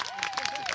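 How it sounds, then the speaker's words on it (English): An audience applauds graduating students at a high school graduation ceremony, a faint, distant wash of clapping under a steady tone. "Family and friends, please join me in applauding again these students for their phenomenal achievement."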